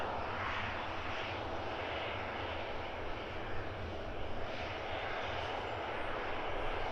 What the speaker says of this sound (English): This one is flight 6624. Destination is Krakow. It's a 737-800.